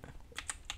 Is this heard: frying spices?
no